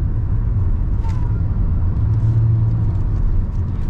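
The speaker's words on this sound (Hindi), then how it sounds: "बाकी साउंड नहीं करती गाड़ी। इंजन बहुत रिफाइंड है," A Kia Carens top-model diesel with a six-speed automatic is heard from inside while driving, giving a smooth, steady low road and engine rumble with only faint changes and no speech.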